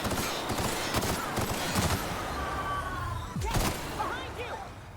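Bursts of gunfire from a firefight in The Outer Worlds, rapid shots mixed with other game effects and voices talking over the action.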